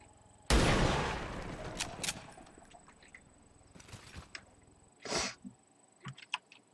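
A single heavy gunshot from a soldier in the turn-based strategy game XCOM 2 cracks loudly and decays, followed by a few scattered quieter shots and effects in an otherwise sparse game soundscape.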